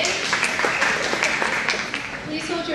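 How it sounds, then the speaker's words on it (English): Scattered audience applause at a school fall sports awards ceremony, a crowd clapping steadily with a few sharper individual claps standing out, moderately loud and continuous. "please hold your applause"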